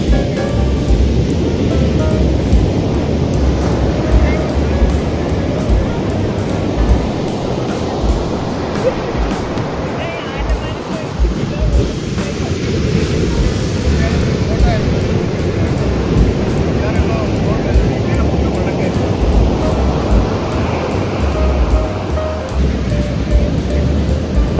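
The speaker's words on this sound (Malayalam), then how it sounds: "കരയിലടിച്ച് തകർന്ന് പതിയെ പിന്നോട്ട് പോകുമ്പോഴും അതിലേക്ക് ശക്തമായിട്ട് പുതിയ തിരമാലകൾ പുറകിൽ നിന്ന് ഇങ്ങനെ തീരത്തോട് പുൽകാൻ വെമ്പൽ കൊണ്ട് വന്നുകൊണ്ടിരിക്കുകയാണ്" Waves breaking and foaming onto the shore at Vettukad Beach, Trivandrum, on a sunny day with calm seas, a continuous rolling roar with wind buffeting the microphone, close and fairly loud.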